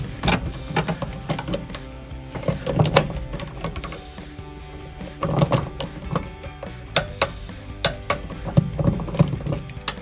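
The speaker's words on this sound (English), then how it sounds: "go ahead and torque it down to your specifications" A ratcheting torque wrench tightens a seat belt bolt on a Jeep Wrangler, set to 39, with clicking, mechanical ratchet bursts repeating every few seconds, close and fairly loud, with no talking.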